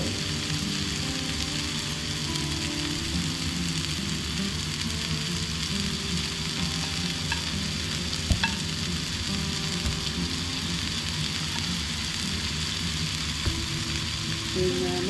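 Crispy fried sushi rolls sizzle steadily in hot oil, a dense, continuous frying hiss that stays loud and even throughout, with a faint clink or two partway through.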